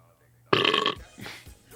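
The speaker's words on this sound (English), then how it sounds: "The combination of flavors in that burp is indescribably horrific." A loud, close burp, rough and gurgling, lasting about half a second, followed by faint breathy vocal noises.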